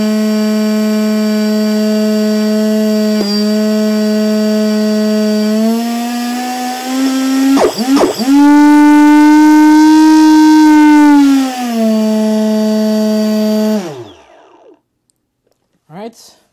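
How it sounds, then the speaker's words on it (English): A small RC model airplane engine drones steadily, then climbs in pitch as the throttle is slowly advanced, with a sputtering stutter before settling at a higher whine and cutting out. "I'm going to deactivate the throttle cut for about 5 seconds, and then I'm going to slowly advance the throttle to see what's up"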